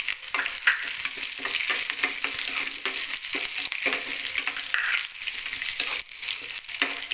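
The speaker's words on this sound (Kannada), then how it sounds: "ಹಸಿಮೆಣಸನ್ನು ಹಾಕೋತಿದ್ದೀನಿ" Green chillies sizzle and fry in a pan while being stirred for lemon rice, a steady crackling hiss broken by repeated scraping stirs, close and fairly loud throughout.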